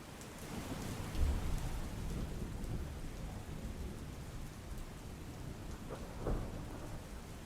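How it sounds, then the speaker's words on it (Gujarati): Heavy torrential rain pours at night over Kalyanpur taluka in Dwarka district, Saurashtra, a steady dense roar of downpour with low rumbles of thunder swelling briefly near the start and again toward the end. "તો દ્વારકાના કલ્યાણપુર તાલુકામાં રાત્રિના સમયે મુશળધાર વરસાદ ખાબક્યો"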